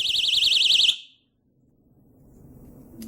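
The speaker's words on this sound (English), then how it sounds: "once the alarm goes off, it'll only go off while the spring is depressed" An X4 Life door stop alarm blares a loud, rapidly warbling electronic siren for about a second, then cuts off abruptly, leaving faint room noise.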